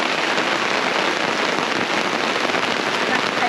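Heavy rain pours steadily onto surfaces at a campsite in the Victorian High Country, a dense, constant hiss of drops close by with no voices.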